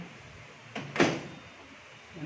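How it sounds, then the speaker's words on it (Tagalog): An appliance door swinging open, a brief soft thud and rattle standing alone in a quiet room with low background hiss. "Ngayon bubuksan natin to kanyang pinto"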